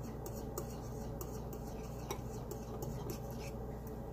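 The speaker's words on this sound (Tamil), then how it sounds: "மாவை அதில் சேர்த்து நல்லா கட்டிகள் இல்லாமல் நல்லா மிக்ஸ் பண்ணி விடணும்." A utensil stirring flour into pancake batter in a bowl, giving soft, close scraping and tapping strokes in a steady, quiet rhythm.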